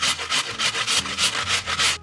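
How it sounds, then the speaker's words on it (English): An apple being grated on a cheese grater, with about nine rhythmic, close, raspy scraping strokes in quick succession and no talking. "we're just gonna take a cheese grater and go to town."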